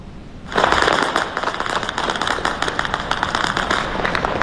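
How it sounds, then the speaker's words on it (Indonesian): Rapid crackling bursts of gunfire and explosions ring out continuously across the city of Erbil, Iraq, dense and sharp, heard from a distance in an open outdoor space. "rentetan senjata dan ledakan terdengar di berbagai titik kota Erbil"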